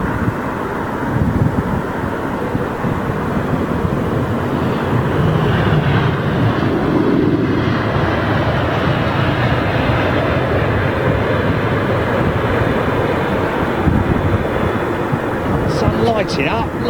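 A British Airways jetliner at London Heathrow airport roars in a loud, sustained rumble with wind buffeting the microphone.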